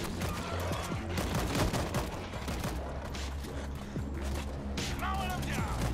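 Rapid gunfire in World War Z crackles in dense, overlapping bursts at moderate volume, mixed with shouted voices and game noise.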